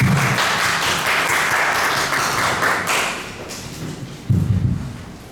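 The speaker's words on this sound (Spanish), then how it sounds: "vamos a recibirlo con fuertes aplausos" An audience at a book presentation applauds to welcome the book's editor, a dense, loud, steady wash of clapping that thins toward the end, with a few thumps near the close.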